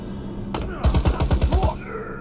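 Gunfire in the Predator VR game: a single report followed by a rapid automatic burst of about eight close, punchy shots, with brief voice nearby.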